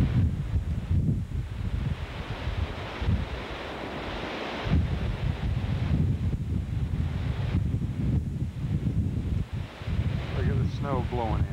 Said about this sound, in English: See the flag moving there? Great deal of wind.